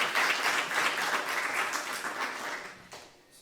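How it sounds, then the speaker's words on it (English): An audience at a higher education lecture gives a round of applause: dense, steady clapping that thins out and fades over the last second. "a big round of applause to Prof."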